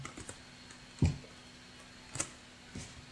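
A computer keyboard being typed on, with a few sparse, soft key taps and one sharper press, quiet and close against a faint background hum.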